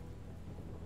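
Steady rain with a low rumbling of thunder underneath in the video game Last Days of Lazarus, continuous and enveloping, with no voices.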